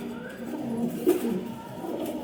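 Big-sized pigeons at Liaquat Market, with a soft cooing murmur held low and steady throughout, one slightly louder coo near the middle, amid faint market background.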